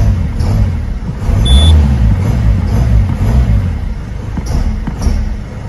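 Jaguar car engine running right after startup with a worn drive belt, a loud, close engine rumble with a repeating squeal that warbles in cycles, and a few faint high chirps.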